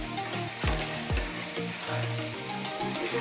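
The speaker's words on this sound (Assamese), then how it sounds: "এইটো ব্ৰাউন কালাৰ হোৱালৈকে ভাজি থাকিব লাগিব" Dahi bara dumplings fry in hot oil over a medium gas flame, giving a constant bubbling sizzle broken by a couple of soft knocks as the pieces are stirred.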